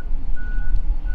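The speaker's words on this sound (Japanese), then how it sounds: "スナップオンのね、あの日本に1台しか、2台しかない、めちゃくちゃでかいバスが今到着しました" A huge Snap-on bus, one of only two in Japan, pulls in with a steady high reversing beep running through the middle over a low, rumbling engine drone.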